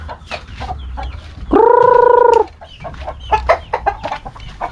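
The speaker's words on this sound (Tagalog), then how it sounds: "Hingal na hingal yung mga manok." Free-range chickens cluck and pant in the heat, with scattered short clucks throughout and one loud sustained call in the middle, close by.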